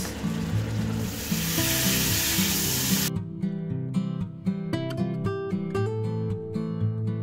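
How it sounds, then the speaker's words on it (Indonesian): Spices with ground coriander and bay leaves sizzle and fry in a pan while being stirred, a loud steady hiss that cuts off after a few seconds and leaves music playing. "Saya aduk sebentar untuk meratakan bumbunya."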